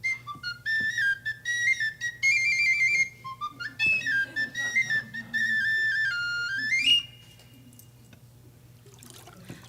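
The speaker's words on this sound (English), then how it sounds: "Why don't I teach you how to whistle?" A person whistles a lively, wandering melody, with quick trills and sliding pitch changes that carry on for about seven seconds and then stop, leaving a faint low hum underneath.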